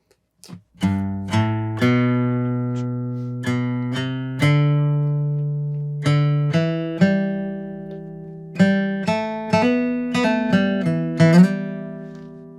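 Clean guitar plays scale practice as a rhythmic, musical melody, distinct plucked notes in varied groupings with short pauses between phrases, each note ringing and decaying, close and clear with no talk.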